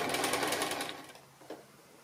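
A sewing machine stitching two pairs of quilt blocks together for a quilt-as-you-go project runs in a fast, steady whir for about a second, then slows and stops, followed by a faint click.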